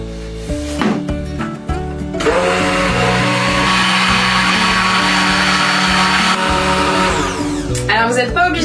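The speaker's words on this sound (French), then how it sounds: "je viens verser directement dans mon lait et je vais mixer" A kitchen blender mixing milk for pistachio panna cotta, starting after a couple of seconds as a loud continuous whirring motor that runs steadily before cutting off near the end.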